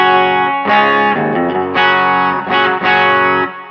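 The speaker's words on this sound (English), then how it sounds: "So here's with everything off on my pedals. So here's what the guitar sounds like in just normal" An electric guitar plays through a Quilter SuperBlock UK amp with all pedals switched off, a few ringing strummed chords with a slightly driven tone, played alone.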